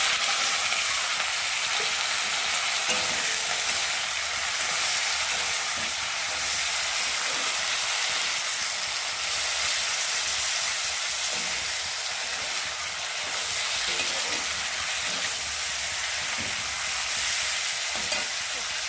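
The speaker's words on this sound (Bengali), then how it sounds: "চিংড়ি মাছ একটু তেলের উপরে ভেজে নিচ্ছে" Prawns frying in hot oil in a wok with nigella seeds, five-spice mix and green chilies, a loud, continuous hissing sizzle that holds steady throughout, with no one talking.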